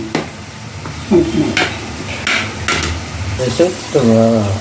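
Chunks of elephant foot yam are stirred in a cooking pan for a traditional curry, with loud nearby scrapes and knocks against the pan, a light sizzle and a few short vocal sounds in between.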